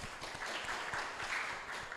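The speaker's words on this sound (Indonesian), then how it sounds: "kita berikan tepuk tangan" Congregation applauding a newcomer standing up at a Sunday service in a GKI church, steady clapping from many hands that fills the room at moderate, even loudness.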